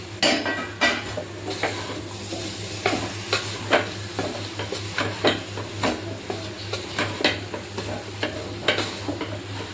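Potato, tomato and curry leaves sautéing in a pot for a soybean meat curry, a spoon scraping in a regular rhythm of sharp clinks over a continuous sizzle, close and alone.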